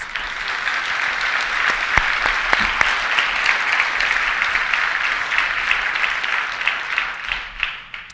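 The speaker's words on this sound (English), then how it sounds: "let's give them all a big round of applause" A large conference audience at a civic tech summit breaks into sustained, loud applause for the fellows and their partners, a thick continuous wash of clapping that fades slightly near the end.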